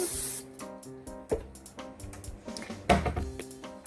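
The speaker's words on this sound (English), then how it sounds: "in my pan, I guess I'll spray it with a little Pam." Pam cooking spray is shot into a pan while assembling a sausage lasagna: one short, bright hissing burst at the start, followed by clinks and knocks of utensils and cookware.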